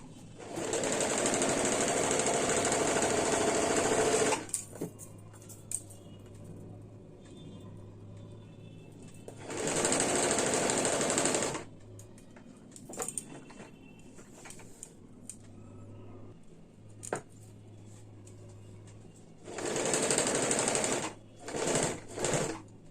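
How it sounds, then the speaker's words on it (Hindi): A sewing machine stitches a kurti in three loud, close bursts of steady whirring, each a few seconds long, separated by quieter stretches with faint handling clicks and a low hum. "इसके ऊपर सिलाई डाल देंगे।"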